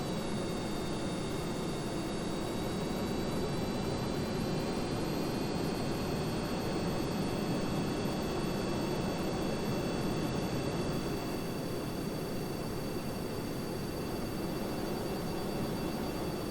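Rocket engines roaring in Kerbal Space Program during a small hypersonic flight, a loud, steady broadband rumble with a faint high whine, holding unbroken throughout.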